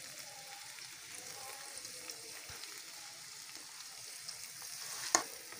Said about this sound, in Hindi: ये जो हमने प्याज रखी हुई थी वो अब इसमें हम ऐड कर रहे हैं कटिंग करके। अब इसको हम भून लेंगे।